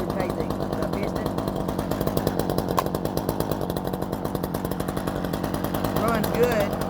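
A Black Max gas chainsaw with an 18-inch bar, bought at Walmart, idles steadily close by, its small two-stroke engine putting out a continuous rough, pulsing drone with a few faint voices underneath.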